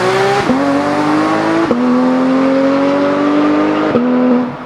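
A Porsche 991 GT3 RS in Forza Horizon 5 screams at high revs, climbing steadily through the gears with three quick shift drops, loud and continuous with no talking.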